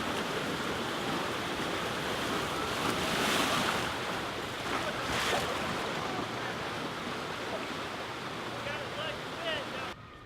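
Rushing water surges through the River Rampage rapids ride at Dollywood on a chilly day with mostly empty boats, a broad, continuous wash with some wind buffeting at moderate distance.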